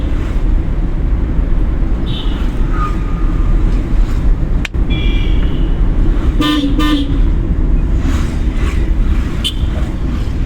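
Steady traffic noise from a driving-school car on the road, with a short car horn toot partway through standing out above the engine rumble.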